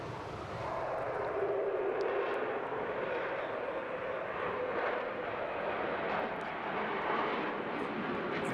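Fighter jet with canards flying low and slow at a seaside airshow, a steady broad jet roar that stays loud and continuous from a moderate distance.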